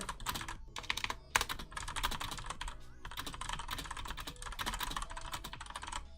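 Rapid typing on a clicky mechanical computer keyboard, bursts of crisp close clacks with brief pauses between runs and a few sharper key strikes.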